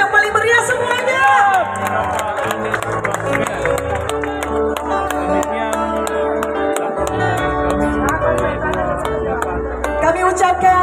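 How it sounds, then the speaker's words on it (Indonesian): A crowd at an Indonesian political rally for a presidential candidate breaks into cheering and applause beneath music with a steady beat, voices rising in a loud, continuous hubbub. "boleh kita berikan tepuk tangan dan aplaus yang paling meriah semuanya"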